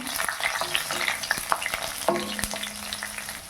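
Fifteen garlic cloves and two green chillies fry in a pan with a steady sizzle, broken by scattered stirring scrapes and clicks, close and moderately loud.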